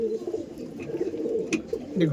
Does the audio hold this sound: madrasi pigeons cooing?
yes